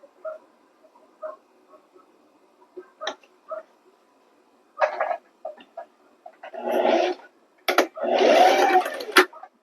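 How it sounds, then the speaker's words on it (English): A sewing machine stitches a quarter-inch seam across the open edge of fabric pieces placed right sides together for a floppy sun hat. A few brief taps lead into two longer, louder whirring runs of stitching, up close. "sew across the open edge here using a 1/4 inch seam allowance"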